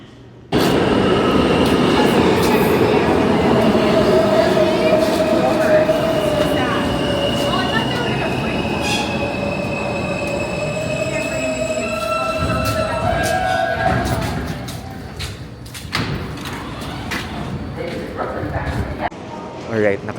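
A New York subway train pulls into the station with a loud rumble and squealing wheels. Its pitch slides down as it brakes, then it settles and comes to rest, with background voices on the platform.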